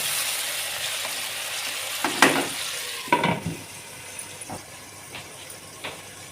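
Tomato slices sizzle and fry under a lid in a pan, with a steady close hiss and a few sharper crackles and spits breaking through.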